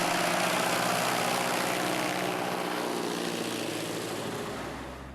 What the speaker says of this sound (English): advancing the throttle to 1900 RPM and 32 inches